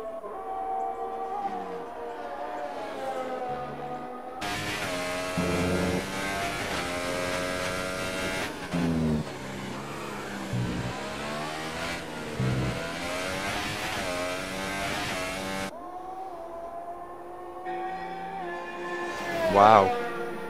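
Racing cars pushing through a lap on two-lap-old tyres, their engines sweeping up and down in pitch as they rev and shift, loud and continuous, with a sharp peak near the end.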